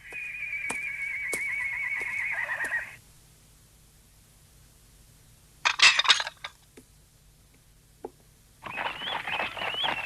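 A horse in an animated Tom Sawyer episode neighs in one sustained, strained call for about three seconds, followed by quieter scattered rustling bursts and another noisy burst near the end. No one speaks.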